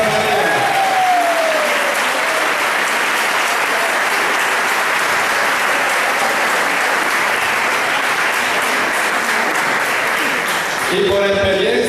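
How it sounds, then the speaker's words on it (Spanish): A church audience at a Pentecost gathering bursts into sustained, dense applause that stays loud and even for about eleven seconds, with crowd voices mixed in, then begins to thin out. "Un aplauso a María."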